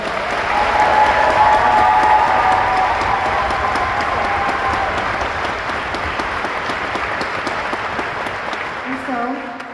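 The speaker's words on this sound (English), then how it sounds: "I ask for a round of applause for all three of them." An audience at an honors choir and band performance gives sustained, loud applause, a dense even clapping with scattered cheers that slowly fades near the end.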